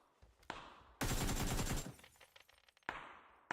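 Iron-sighted AK rifle fire in a video game match, a loud dense burst of rapid shots lasting under a second, then scattered echoing reports and another sharp burst at the end.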